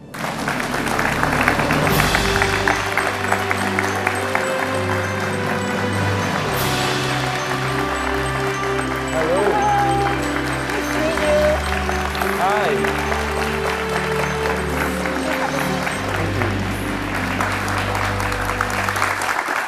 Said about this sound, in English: give a warm welcome, a big round of applause to our guest today, Mr. Derek Boocock.